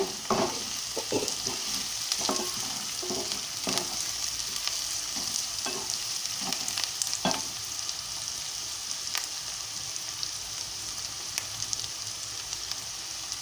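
Chopped onions and green chillies frying in oil for a mutton tamarind-leaf curry, a steady close crackling sizzle with occasional stirring scrapes throughout.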